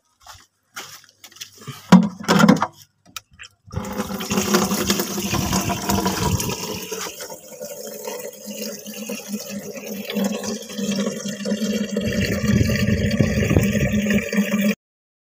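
Water pours steadily onto potted plants on a rooftop, a continuous splashing gush that runs for most of the clip after a few brief knocks at the start.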